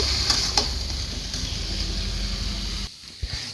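Puti fish with beans, cauliflower, potatoes and onions being stirred and fried in a pan, giving a steady low sizzle with a couple of sharp spoon knocks, close, briefly dropping near the end.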